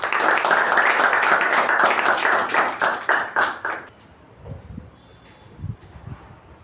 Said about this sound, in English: Please help me welcome Toastmaster Chetan with a huge round of applause